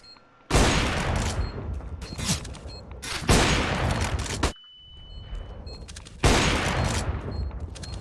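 A flashbang grenade going off in Counter-Strike during a Furia vs GamerLegion match at the IEM Rio Major 2022, heard as a run of loud, sharp bursts separated by short gaps, with a high ringing tone in one quiet stretch.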